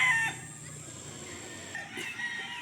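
A gamefowl rooster of a butcher bloodline crows in a brief, fairly faint call near the start, with a second softer call later amid quiet yard ambience.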